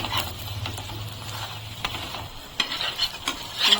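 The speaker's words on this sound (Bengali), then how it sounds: "এপিট উপিট করে ভালো করে ভেজে নিতে হবে" A sattu paratha fries in oil in a pan, turned over with a spoon, giving a soft close sizzle broken by short scraping and tapping sounds, with no talk.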